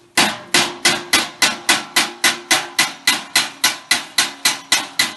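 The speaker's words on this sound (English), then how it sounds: "now hear that metallic sound? A bit dull there. That's hammer on dolly." Rhythmic metallic hammer blows on a steel dolly while shaping a steel tyre door, about three strikes per second, each sharp ringing hit decaying quickly, loud and close.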